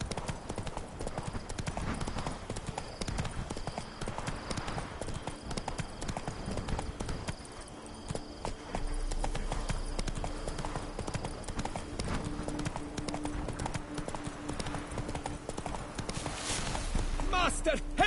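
Roach the horse's hooves clip-clop steadily at a walk in The Witcher 3, a continuous rhythmic clatter running throughout, with game voices talking over it.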